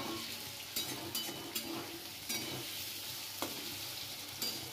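Potato pieces frying in hot oil, a steady crackling sizzle with several sharp spatula scrapes and stirs against the pan, close and continuous, no voices.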